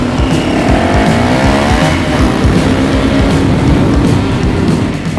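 A USMC M1030 diesel military motorcycle launches hard off the line in a drag race. Its engine note climbs loudly and continuously as it accelerates, close up, with no talking.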